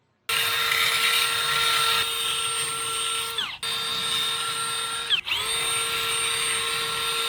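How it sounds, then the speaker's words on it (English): A leaf blower bought at a yard sale runs beside a classic Winnebago during radiator work, giving a loud, steady motor whine that briefly dips twice before recovering, with no talk over it. "I think you like that blower, huh?"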